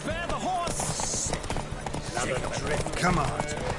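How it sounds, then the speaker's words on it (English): Horse hooves clop in a race in The Witcher 3 video game, a quick rhythmic beat running under shouted voices and game noise throughout. "Don't spare the horse!"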